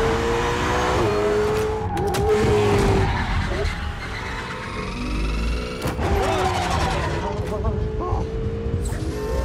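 A sports car driven recklessly skids with tire squeals and a revving engine, in bursts over about nine seconds, under a narrator's voice and music.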